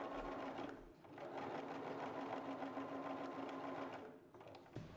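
A sewing machine straight-stitches through fabric and batting while a bowl cozy is made. Its steady, close mechanical whir runs almost the whole time, pausing briefly near the start and dipping near the end, with no talk.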